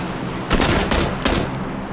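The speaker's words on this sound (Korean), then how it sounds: "어, 누가 쏜다" Gunfire in a battle royale video game: two loud bursts of rapid shots, each about half a second, close and sharp over a steady background, with no talk.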